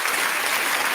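A short burst of continuous, dense audience applause, loud and steady from start to finish with no break.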